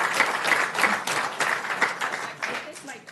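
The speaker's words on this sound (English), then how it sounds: "So can we have a round of applause for this group and a photo?" A room of people applauds at a Manhattan Beach city council meeting, a steady patter of clapping from a moderate distance, with voices talking over it.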